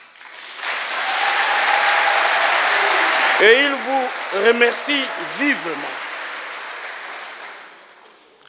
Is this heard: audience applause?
yes